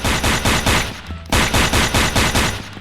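Rapid bursts of automatic gunfire from a gun in the Roblox game, loud and close, firing in rhythmic volleys with a short pause near the middle before resuming.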